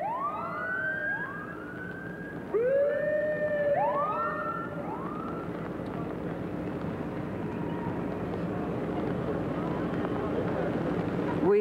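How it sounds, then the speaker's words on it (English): An emergency siren wails in repeated rising and falling sweeps before the implosion of the Wayne Miner public housing complex in 1987, steady and fairly distant, carrying over a constant outdoor background rumble. "We have just heard the siren."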